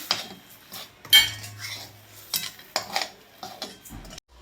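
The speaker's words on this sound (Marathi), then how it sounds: "आता मिक्स करून घ्यायचं आहे रवा चांगला." Steamed semolina for mango sheera is mixed in a pan, with a handful of close, distinct metallic spoon scrapes and clinks separated by quiet gaps.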